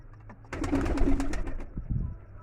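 Homing pigeons coo at a bird market, a soft burst of close, throaty cooing with faint chirps mixed in.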